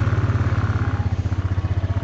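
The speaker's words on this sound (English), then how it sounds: "It's really a four-wheeler, but it's a great tool." Four-wheeler ATV engine running at a steady idle, a close, loud, rhythmic low chugging pulse that holds even throughout.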